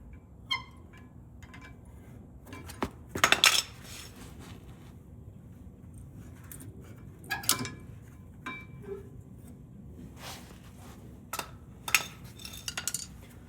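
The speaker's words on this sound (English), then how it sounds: "Let me just get a screwdriver and pry it out." Metal screwdriver prying the rear brake pads out of a caliper on a 2013-22 Ford Super Duty F-250/F-350 pickup, giving scattered close metallic clinks and scrapes in irregular bursts with quiet gaps between.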